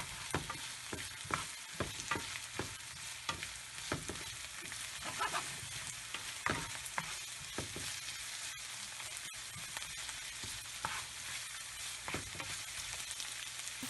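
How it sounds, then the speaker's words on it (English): Garlic and carrots simmering together in a pan for Sicilian arancini filling, a continuous bright sizzle broken by repeated stirring scrapes, close and steady throughout. "garlic, and let them simmer together"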